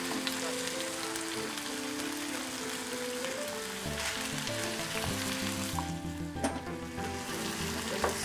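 Fish sizzles steadily in a hot pan with soya sauce for sweet and sour fish, a continuous bright frying hiss with crackles, while background music plays beneath it.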